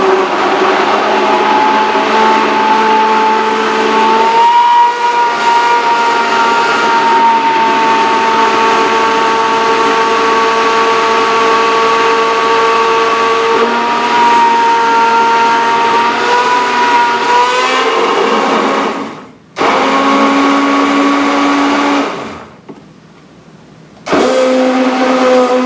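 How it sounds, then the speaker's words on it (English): A pulsifier blender whirs steadily as it blends puree for tube feeding, a loud close motor whine that holds for about twenty seconds, then drops off, restarts in short bursts and stops. "We'll take the puree, our pulsifier, and we'll get to blend it."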